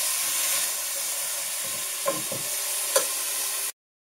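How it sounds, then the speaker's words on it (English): Ingredients sauté in a pot with a steady close sizzle and hiss, broken by a few brief stirring scrapes and taps before cutting off abruptly. "I added everything to the pot. I'm going to let that saute for a little bit."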